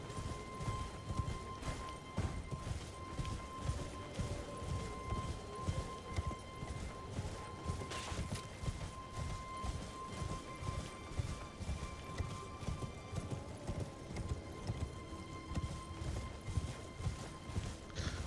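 Horse hooves gallop in a steady, rapid clip-clop rhythm across open ground in the video game Elden Ring, loud and close, with faint game ambience and a brief crash partway through.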